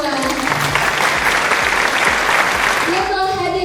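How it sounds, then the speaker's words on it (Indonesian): An audience at an MC school class in Surabaya bursts into sustained applause, loud dense clapping from many hands, while a voice is heard speaking over it. "Tepuk tangan untuk kita semua."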